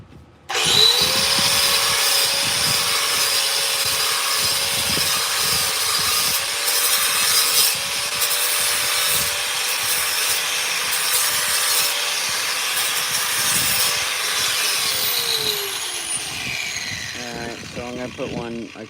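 A power grinder carves a mushroom sculpture, whining steadily and loudly for about seventeen seconds with a scraping, rasping bite, then spinning down at the end.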